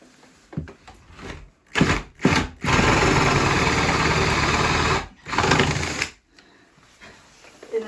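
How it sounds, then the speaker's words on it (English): A power drill bores into a wall in a cramped attic, giving a few short bursts, then a sustained whine of about two seconds, then one more burst, loud and close with no talking. "the neighbor is gonna come ask me why I'm drilling into her wall."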